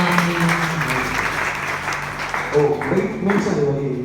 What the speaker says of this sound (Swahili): Makofi mengi zaidi kwa ajili ya Yesu